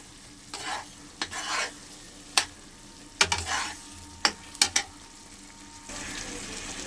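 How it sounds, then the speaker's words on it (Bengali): A spice paste with turmeric is stir-fried in a pan for a fesha fish and eggplant curry. Repeated close spatula scrapes and clacks ride over a soft, steady sizzle, with no talking. "এবারে মশলাটাকে এর সঙ্গে ভালো করে আমি কষিয়ে নেব।"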